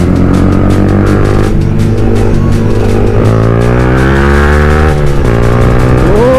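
Kawasaki Z900 superbike sweeping past at speed, a loud, close engine howl with pitch that climbs and then drops sharply as it passes, over constant heavy wind buffeting.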